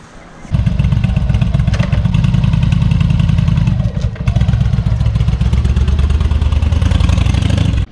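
A Shadow 750 motorcycle engine idles close by with a loud, steady, rumbling chug, a brief dip in the middle before it keeps running.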